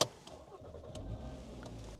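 A 2012 VW Jetta 2.5 engine cranks and catches, then settles into a low steady idle rumble close by.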